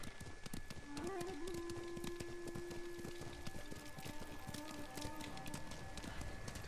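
Steady clip-clop of a horse's hooves in a video game, Ghost of Tsushima, at a quick pace, close and continuous, with a low musical drone and faint ambient sounds underneath.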